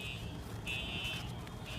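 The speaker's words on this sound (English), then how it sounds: "Like as soon as it went off, I'm like, that's a fire alarm." Small high-pitched fire alarm horns in a hotel with a waterpark blare continuously at steady loudness, with a brief gap and a renewed tone about midway, while people talk over the sound.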